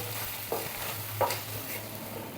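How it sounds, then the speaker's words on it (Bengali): Cumin, coriander and chili powder are stirred and fried in a pan for chicken changezi, giving a soft, steady sizzle broken by two brief spatula scrapes, quiet and close with no talking. "লঙ্কা গুঁড়ো ভালো করে নেড়ে চেড়ে আরও দু তিন মিনিট কষিয়ে নেব"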